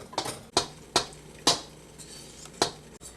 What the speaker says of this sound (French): prendre le fouet et de vraiment fouetter le chocolat, sinon il se peut qu'il se brûle